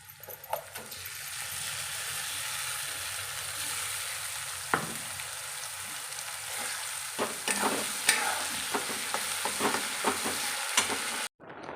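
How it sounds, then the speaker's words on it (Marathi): Whole spices such as shahi jeera, a cinnamon piece, cloves and a bay leaf fry in hot oil for an egg biryani, with tomato, garlic and ginger in the pan. A steady sizzle runs throughout, broken by occasional stirring scrapes and clinks. "हे पण आपल्याला तेलामध्ये भाजायला टाकायचं आहे आता।"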